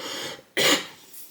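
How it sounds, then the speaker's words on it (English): A single sharp, loud cough bursts out close to the listener after a brief quiet moment, preceded by a soft breathy rasp. "this cough is not gonna stop."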